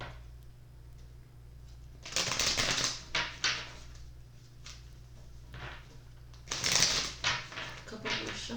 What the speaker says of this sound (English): Couple more shuffles and we'll start.